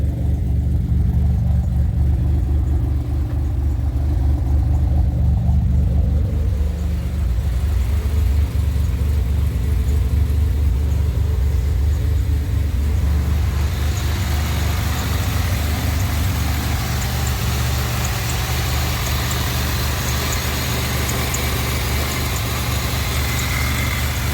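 A 2007 Pontiac Grand Prix GT engine, freshly fitted with an intercooler, runs steadily nearby with a deep low rumble throughout, no voices over it.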